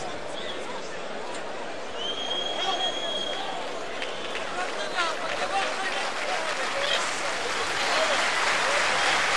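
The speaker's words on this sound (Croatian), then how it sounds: "Na kraju evo aplauzi za rukometnu reprezentaciju Bosne i Hercegovine" Arena crowd applauding the Bosnia and Herzegovina handball team at the end of a match against Hungary, a dense sustained roar of clapping with scattered whistles and shouts, building slightly louder toward the end.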